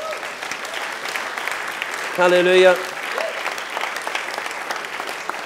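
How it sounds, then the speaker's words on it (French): A church congregation applauds in a steady wash of clapping, with a brief sung or shouted voice rising over it midway. "Est-ce que vous voulez bien les applaudir?"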